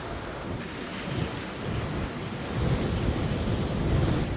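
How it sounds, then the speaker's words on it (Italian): Rough sea surf pounds the shore during a heavy storm surge, a continuous roar of crashing waves mixed with strong wind buffeting the microphone, growing louder toward the end. "Vedete come sta peggiorando la situazione del mare? Si alzano le onde"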